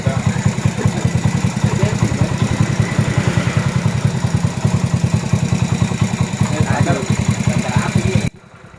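A fuel-injected Yamaha Jupiter Z1 motorcycle engine, converted from carburettor with a Juken 5 ECU, idles steadily with a fast, even low putter that stays close and loud until it cuts off near the end.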